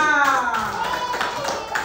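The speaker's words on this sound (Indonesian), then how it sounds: "Tepuk tangan buat kelompok 2." Schoolchildren in a classroom clap for a group of classmates during a Pancasila civics exam, short bursts of clapping mixed with children's voices talking over it.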